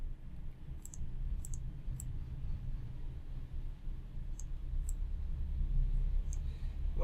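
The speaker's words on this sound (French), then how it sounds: "je clique d'abord ici" Computer mouse clicks while working in EPANET software, sharp isolated clicks in small clusters spread across a low background hum, close and fairly faint.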